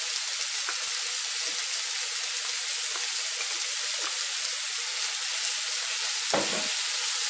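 Meat sizzles steadily in a pan for a bolognese lasagne as garlic and parsley are mixed in, a continuous loud hiss and crackle with a few soft stirring scrapes and one louder clack near the end.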